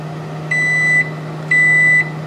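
A microwave oven hums steadily while sounding two clear electronic beeps, each about half a second long, evenly spaced and close by.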